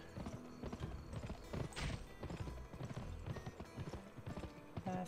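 Horse hooves clip-clop in a quick steady rhythm in the PS2 video game Gun, close and clear over game sounds, with a brief whinny-like swell partway through.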